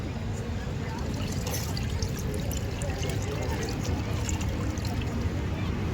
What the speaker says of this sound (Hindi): उसके बाद हमें अच्छे से हाथों को मसल के पानी डाल देना है।